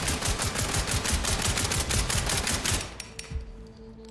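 Rapid automatic gunfire in an SCP horror video game, a whole magazine emptied in a fast, even burst of loud close shots for about three seconds, then stopping abruptly into a quiet room with a few faint clicks.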